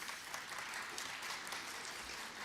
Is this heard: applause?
yes